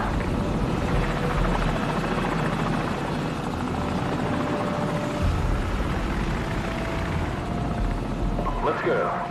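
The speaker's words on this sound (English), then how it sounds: "Enemy helicopter, get down!" A steady, loud enemy helicopter drone in a video game demo, with thumping rotor blades continuing throughout, close and unbroken.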